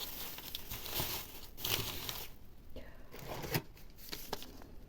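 Crinkling of a small plastic bag of candies being handled, soft irregular rustles and crackles close by, fairly quiet, with brief pauses between handfuls of movement.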